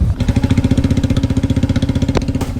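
A motorcycle idles close by on a market road in Badrinath, Uttarakhand, its engine giving a loud, even, thumping pulse throughout, with a short sharper knock near the end.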